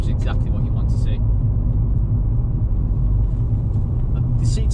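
Mountune-tuned Ford Fiesta ST on a test drive, steady low road and engine rumble heard from inside the cabin while braking, under continuous talk.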